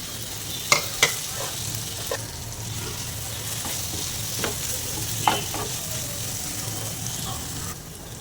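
Bitter gourd pieces fry in a pan for an onion-chili stuffed fry, giving a steady sizzle broken by scattered clicks and scrapes as they are stirred.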